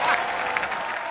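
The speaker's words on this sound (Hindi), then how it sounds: "तालियां।" Brief burst of studio audience applause on a comedy talk show, bright scattered clapping over a short moment.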